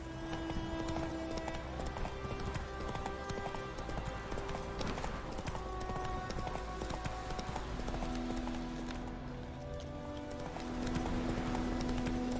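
Roach, a horse in The Witcher 3, gallops with a steady, rapid clip-clop of hooves over continuous game music and ambience, never letting up.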